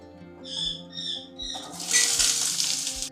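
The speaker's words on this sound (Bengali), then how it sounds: "আলুগুলো এবার ফ্রাই করে নিচ্ছি।" Boiled red potatoes go into hot oil in a pan: a few short fluttering tones first, then a sudden, bright, continuous sizzle up close.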